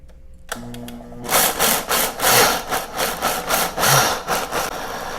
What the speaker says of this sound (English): This is just starting up. It's going to grind them up right now to be all the same size.